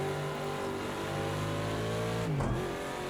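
A Ford Mustang GTD race car engine at Daytona revs steadily under load, its pitch climbing while accelerating, with a brief gear-shift dip near the end, heard from onboard.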